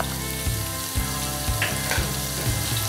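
Garlic paste fries in a hot pan with a dense, loud sizzle, interrupted by a regular series of low thumps about every half second.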